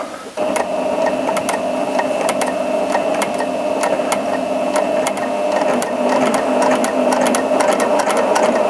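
A new Janome 780DX professional sewing machine stitches steadily, a constant whirring hum with fast mechanical ticking that runs without pause after a brief start.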